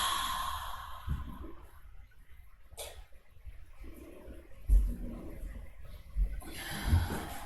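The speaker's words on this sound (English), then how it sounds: "Take a nice big inhale. Nice full exhale." A deep inhale followed by a long, full exhale during a gentle yoga session, soft and close with a slow swell of breath, a few louder puffs near the end and no talking over it.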